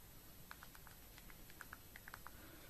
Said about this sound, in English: it's got a very nice satisfactory clunky feel when you're typing, as you can hear that